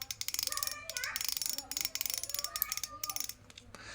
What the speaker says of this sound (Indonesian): Kita cek bunyi klikernya. Ini klikernya seperti ini ya.